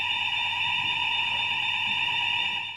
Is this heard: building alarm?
yes